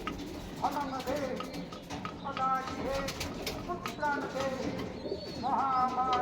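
Kalanka pigeons coo close by in repeated soft, throaty rolling phrases, with several overlapping calls over a busy background and someone talking intermittently.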